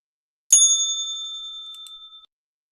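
A single bell sound effect strikes once, bright and clear, then rings out with a long sustained tone that fades over about two seconds, alone with no talk.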